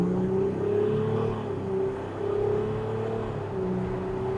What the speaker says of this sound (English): The tone from the V6 is just like GTR-esque in it